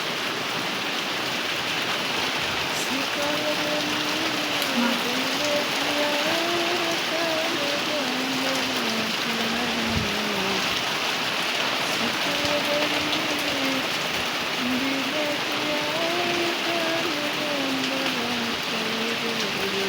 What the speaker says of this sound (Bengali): আর বৃষ্টি নামছে